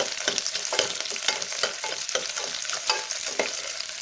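Small onions for sambar sauté in a hot pan, a steady close sizzle broken by the scrape and clatter of a spoon stirring every half second or so, with no talking.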